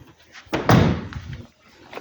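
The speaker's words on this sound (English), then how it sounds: "This side door, let's open that." The side door of a 2015 Renault Megane 2.0T Renaultsport is opened with a single close mechanical clunk and brief rattle, heard alone without talk.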